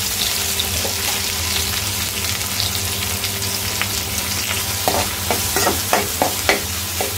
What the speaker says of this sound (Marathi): परतवायचं आहे कांद्याला,